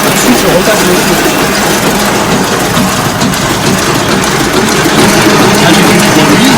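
Ryobi 520X offset printing press running at speed during cleaning, a dense, loud, steady mechanical roar and clatter filling the space, continuous without pauses.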